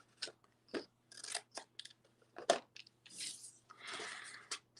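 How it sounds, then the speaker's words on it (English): Scissors snipping and trimming paper tabs at a Halloween craft table, a run of short crisp cuts and rustles at close range with no talk. "we're going to cut the tabs shorter and then angle cut them."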